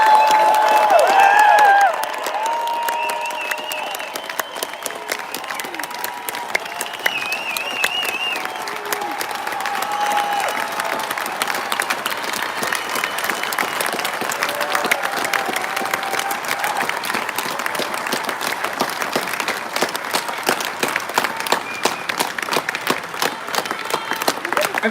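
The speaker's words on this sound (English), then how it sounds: "let's show them how we feel about them with another round of heartfelt applause" Sustained applause for veterans at an outdoor 4th of July celebration, a large crowd clapping continuously for about twenty-five seconds, with a few scattered voices and cheers rising briefly near the start before the steady clapping carries on.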